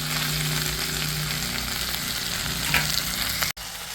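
Tomatoes frying with chicken in a pan for til chicken, a continuous close sizzle with stirring scrapes, steady throughout before a brief cut near the end.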